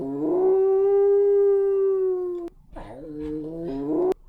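A long, steady animal howl rings out, then after a brief pause a shorter, wavering howl rises at the end.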